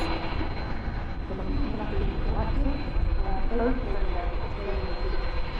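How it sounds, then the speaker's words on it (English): An EasyJet airliner arriving from Geneva at Manchester Airport, heard from the runway visitor park as a steady, broad jet roar that holds loud throughout with faint voices in the background. "An EasyJet arriving in from Geneva just before these 330s start to move"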